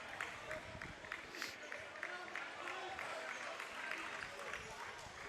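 A packed, standing-room-only crowd at a men's college basketball game applauds steadily through a close finish, a dense wash of clapping and crowd noise running the whole time beneath a commentator's voice.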